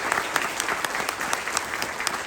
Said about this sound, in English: Please join me in giving a warm round of applause to our little friends.